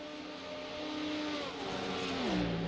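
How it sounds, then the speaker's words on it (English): Racing hypercar engines from Cadillac and Acura in an iRacing game at Daytona, a loud sustained engine note revving and shifting pitch, dropping sharply near the end as the car passes or changes gear. "The Cadillac a lot more throaty. The Acura a lot more high-pitched."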